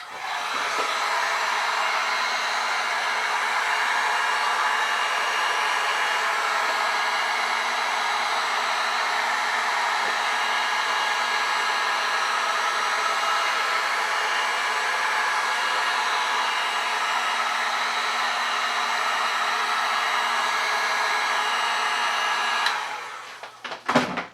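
A heat gun blows hot air in a garage, a loud, steady, unbroken roar lasting over twenty seconds before it cuts off abruptly at the end. Nobody talks over it.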